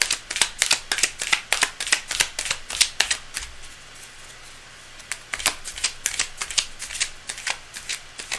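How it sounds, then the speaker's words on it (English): Tarot cards being shuffled in rapid, crisp bursts of riffling flicks, close and clear, pausing briefly midway before the shuffling resumes. "Cards are well shuffled."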